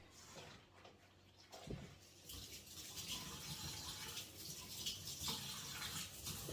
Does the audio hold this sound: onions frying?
no